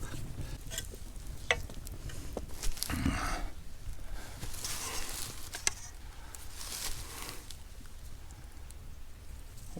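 Potatoes and vegetables fry in a pan over an outdoor campfire, a continuous soft sizzle with scattered pops and the occasional clink or scrape of stirring.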